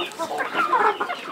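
Chickens clucking on a small sustainable farm in Kenya, a cluster of near, moderately loud clucks and chatter over faint background noise, with no talk.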